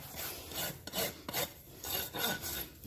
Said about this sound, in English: I'm just kind of using a junk rasp, my top dressing rasp, just to get rid of all the built up gunk in the hoof dressing